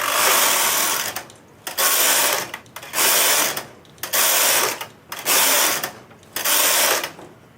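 A knitting machine carriage sweeps back and forth across the needle bed, each pass a loud, even mechanical rasp lasting about a second, separated by short quiet pauses, six passes in steady rhythm, close up.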